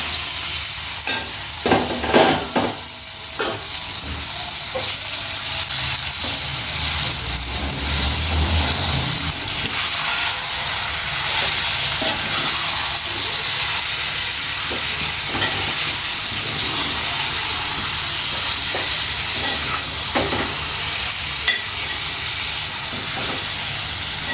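Onions and marinated chicken fry in a pan with a constant loud sizzle and hiss, broken by occasional stirring scrapes and clicks, close and continuous throughout.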